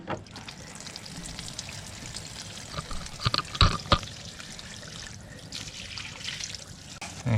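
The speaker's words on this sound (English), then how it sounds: "we're gonna let some more water out" Water draining from a Class B campervan tank out through a hose, a steady trickling, splashing flow with a few louder sputters partway through, close and alone without talk.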